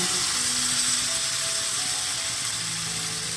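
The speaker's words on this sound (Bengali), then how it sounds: "এটা কিন্তু ফুল ফ্লেমেই ভাজতে হবে, না হলে চিকেন থেকে জল বেরিয়ে যাবে।" Marinated chicken legs fry over full flame in a home kitchen, giving a steady, even sizzle that stays loud and close throughout, with no talking.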